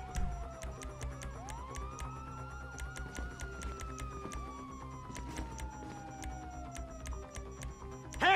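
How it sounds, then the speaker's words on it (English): Police sirens in the video game Tesserak wail and sweep up and down in overlapping tones, moderately loud and steady, over a sharp repeating ticking and a low rumble. "You hear that? Sirens!"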